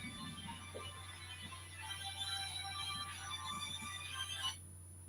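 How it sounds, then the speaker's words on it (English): A mobile phone rings with a steady electronic ringtone that is fairly faint and sits over a low constant hum of room noise, then cuts off abruptly near the end. "now somebody's ringing my phone"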